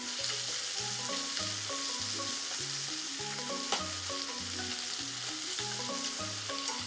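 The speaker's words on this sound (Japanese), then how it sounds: "ちょっと火加減弱めてじっくりとね火を入れていきますね。" Chicken for a miso-grilled doria frying gently in a pan over lowered heat, giving a steady soft sizzle and crackle under a light, rhythmic musical backing.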